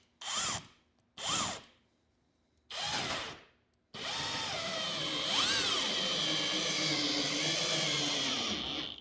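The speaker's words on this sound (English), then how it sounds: "luckily we got an electric drill with the right bit to do it for us" An electric drill whirs in three short bursts, then runs continuously, its pitch rising and dipping as it drives big steel bolts while installing an EV charger cable holder, loud and close.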